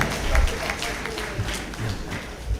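A crowd at a graduation ceremony claps and applauds steadily for a few seconds, a dense patter of many hands mixed with faint voices.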